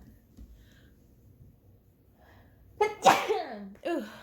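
After near silence, a single loud, close sneeze bursts out, followed by a brief voiced sound.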